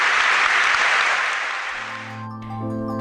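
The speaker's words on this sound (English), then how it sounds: "applause all around the stadium here at Goodison Park" A stadium crowd at Goodison Park, the football ground, applauds in a broad wash of clapping that fades out after a couple of seconds, giving way to sustained music tones.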